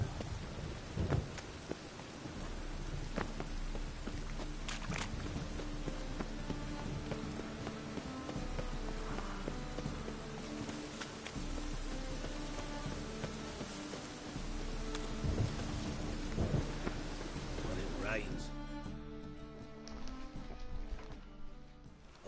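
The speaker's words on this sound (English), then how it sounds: "It just rains and rains." Steady rain with low rumbling thunder in The Witcher 3 video game, a continuous wet wash mixed with game music and occasional hoof-like clops, running the whole way through.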